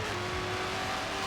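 A Dodge SRT Demon launches in the racing game Forza Horizon 4, a sustained, loud engine drone with a steady tonal whine, heard alone without speech.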